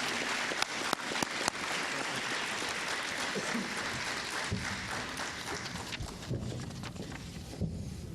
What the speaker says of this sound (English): join me in applauding these teachers one more time for their dedication to our students